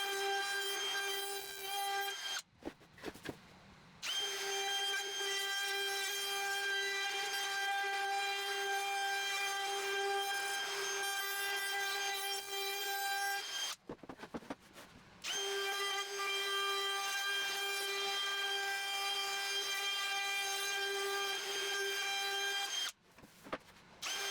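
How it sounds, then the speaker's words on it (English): A palm router with a 1/2 inch round over bit rounds the edge of a 2x4, giving off a steady high whine with a grinding bite into the wood. It runs in long close passes with two short breaks between them. "I'm using my palm router and a 1/2 inch round over bit, which does quick work of this edge"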